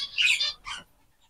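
A pet breeder bird gives two close, bright chirping squawks in quick succession, loud and alone, followed by quiet.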